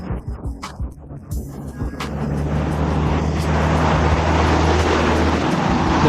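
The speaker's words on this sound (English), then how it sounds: "There are many taxis going up." Steady traffic engine rumble from taxis climbing a road on the Mount of Olives, building from quieter, patchy noise into a loud, continuous low drone of several vehicles nearby.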